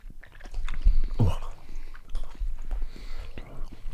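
Chewing and biting on spicy hot gummy bears close up, with a sharp bite near the middle, wet mouth sounds throughout and no talking.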